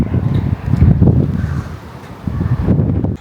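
Gusty wind buffets the microphone in low, rumbling bursts that swell and ease, close and fairly loud with no talking.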